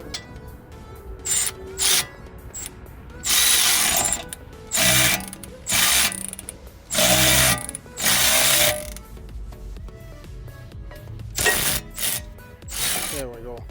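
A bolt on a Toyota C-HR rear brake is ratcheted to press the rotor off its hub, giving repeated close bursts of clicking pawl noise separated by short pauses, with no talk over it.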